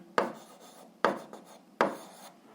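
Pen scratches across paper while answers to an 8th-grade algebra exercise are written down, three quick rasping strokes each fading out, close and quiet with no talk.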